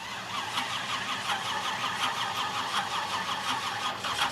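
A barn-find Pontiac Firebird engine cranks and catches, then runs steadily with a rough, pulsing idle close by, loud and continuous without talking over it.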